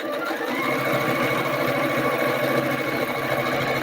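Sewing machine zigzag stitching with a walking foot: a steady, continuous mechanical whir and hum, close and even throughout with no talk.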